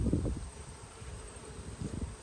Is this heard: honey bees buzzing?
yes